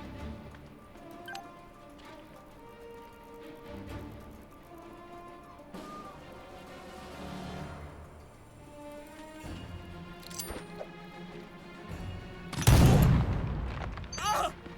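Grenade launcher round exploding in Jagged Alliance 3, a loud broadband blast near the end after a stretch of quieter ticks, clicks and game music.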